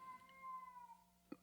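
A cat lets out one long, drawn-out meow that slowly falls in pitch, fairly quiet against a near-silent room, followed by a short sharp knock.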